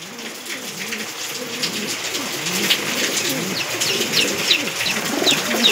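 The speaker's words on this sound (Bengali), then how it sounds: "এখানে আছে কাগজি পায়রা" Kagzi pigeons coo softly and repeatedly over a steady patter of rain in the background.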